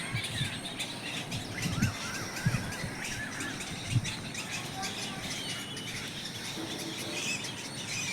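White egrets nesting in a tree call out in a dense stream of shrill squeals and chirps, moderately distant and fairly faint, with occasional louder cries.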